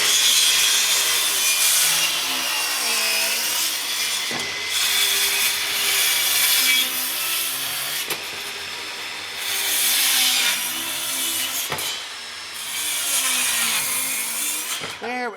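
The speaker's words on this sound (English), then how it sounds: "so you're going to cut up the edge of the Christmas tree there" Pallet wood being sawn into a triangular Christmas tree shape with a power saw, a loud steady rasping cut with brief dips between passes, continuing for about fifteen seconds close by.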